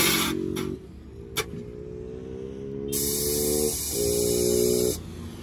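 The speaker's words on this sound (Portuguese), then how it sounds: "É o compressor, mano. O compressor dá uma interferência." A modified car's air suspension compressor running, giving a steady electrical hum with a harsh, hissing interference buzz that starts, stops and changes level, close by.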